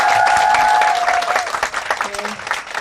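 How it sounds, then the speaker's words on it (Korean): An audience at a book concert gives loud, dense applause that starts at full strength and then thins out and fades, with a faint voice briefly heard over the clapping. "다시 한번 큰 박수 부탁드립니다"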